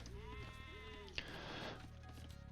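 Sheep bleating in the real-time strategy game Age of Empires II during a match, a couple of short wavering bleats up close over a low game soundscape, with a sharp click midway.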